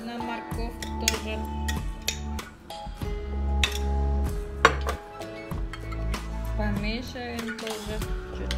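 Spoon scraping and clinking around a bowl as mayonnaise is stirred into carrots for a Russian salad, a steady run of close taps and knocks with quiet music-like tones beneath.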